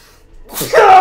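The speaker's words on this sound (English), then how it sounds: "Oh yeah, that was a sneeze." A single sneeze from a man: a short rising intake of breath, then a sharp, loud, close burst that trails off briefly.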